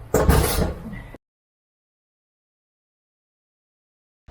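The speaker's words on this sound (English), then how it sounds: "At least the door is closing." A garden door swings shut with a brief, close rattle and thud, followed by silence.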